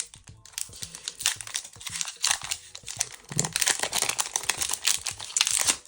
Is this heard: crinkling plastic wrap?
yes